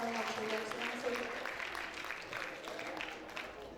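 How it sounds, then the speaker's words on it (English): An audience at an International Day of the Girl Child event applauds, a moderate wash of clapping that tapers off, with a voice speaking over the start. "A round of applause, a round of applause, a round of applause."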